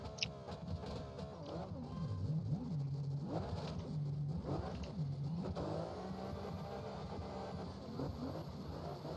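Toyota 2JZ engine in a racing video game, revving hard and steadily with rising and falling pitch as the car accelerates, a continuous loud drone throughout.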